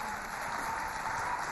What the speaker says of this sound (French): je voudrais que vous applaudissiez pour elle, s'il vous plaît